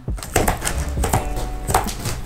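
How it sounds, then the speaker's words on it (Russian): Scissors snip through a bristly shoe doormat carpet in a few close, crisp cuts, each a short dry crunch with rustling between, no voices present. "Это все дело абсолютно легко нарезается ножницами."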